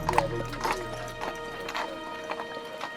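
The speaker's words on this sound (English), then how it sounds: "the horse can get a break, and then he can go on up the hill" Horse hooves clip-clopping on a street on Mackinac Island, several distinct hoof strikes in an uneven walking rhythm, fairly close, with a brief whinny near the start.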